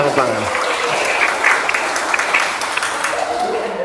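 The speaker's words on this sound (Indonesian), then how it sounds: "tepuk tangan" A classroom of vocational students breaks into applause, a dense, loud wash of clapping that carries through with voices mixed in underneath.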